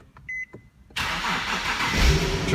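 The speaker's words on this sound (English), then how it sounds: "turn your car on." An Infiniti G37 sounds a few short electronic beeps, then its engine cranks and catches at about one second, settling into a steady, close idle that grows slightly louder.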